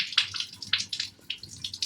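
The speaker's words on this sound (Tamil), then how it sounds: "ஸோ இப்படி ஃபுல்லாக தண்ணியை வடிச்சிடணும்." Soaked toor dal being drained, with water splashing and trickling out in close, uneven bursts and drips over a couple of seconds.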